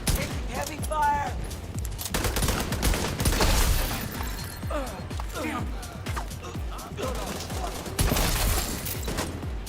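Heavy, sustained gunfire in The Division 2, with a turret being set up in a zombie-like game mode. The dense, loud, continuous volleys run the whole time, and people talk over the shooting.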